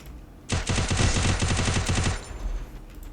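A loud, close burst of rapid automatic gunfire from the Free Fire video game runs for under two seconds in a fast, even rhythm, then cuts off to quiet game background.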